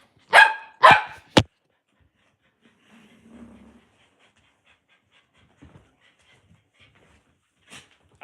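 A dog fires off three quick close barks in a row, then only faint panting, shuffling and small knocks follow in near silence.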